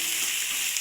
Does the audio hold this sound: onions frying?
yes